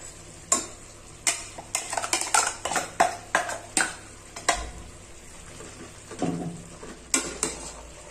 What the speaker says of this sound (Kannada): ಮಟನ್ ಚೆನ್ನಾಗಿ ಫ್ರೈ ಆಗಿದೆ. ಈಗ ನಾನು ಮಸಾಲೆನ ಇದಕ್ಕೆ ಆಡ್ ಮಾಡ್ತಾ ಇದ್ದೀನಿ.